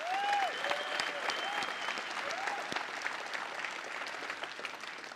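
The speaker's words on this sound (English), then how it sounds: "How about a huge round of applause for our partners who've joined us on stage tonight?" A conference audience at a tech presentation breaks into sustained applause, a broad steady roar of many hands at moderate level, with a few whoops and whistles rising above it early on.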